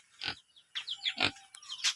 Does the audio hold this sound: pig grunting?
yes